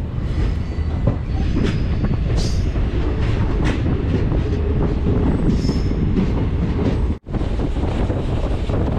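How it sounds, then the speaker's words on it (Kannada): A passenger train rumbling along steadily through desert near Pokhran, Jaisalmer district, with rattling wheels and faint squeals, loud and continuous, with a brief dropout near the end. "ಈಗ ನಮ್ಮ ಟ್ರೈನ್ ಡೆಸರ್ಟಲ್ಲಿ ಓಡ್ತಾ ಇದೆ"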